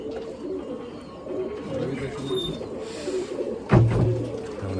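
Pigeons coo softly and steadily at a pigeon race in Nashik on a hot day, with low outdoor murmur behind them and a single brief knock near the end.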